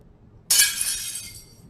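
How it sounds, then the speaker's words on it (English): Window glass shatters in one sudden loud crash, followed by a bright tinkling spray of falling shards that slowly fades out. "Window shatter."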